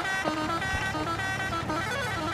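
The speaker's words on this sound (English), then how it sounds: "Lots of hooting, ideal for the UAE traffic too." At a PSL 2016 cricket match between Lahore Qalandars and Peshawar Zalmi, horns toot in sustained tonal blasts over a dense stadium crowd roar, loud and continuous.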